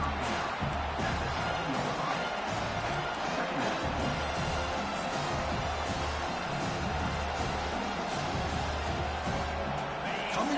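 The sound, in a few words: stadium crowd cheering at football game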